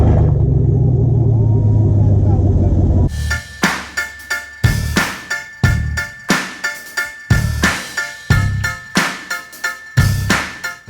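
A loud straight-piped 5.3-liter V8 engine in a 2020 Chevy 1500 pickup idles with a deep rumble, then revs in a series of sharp, repeated bursts close by.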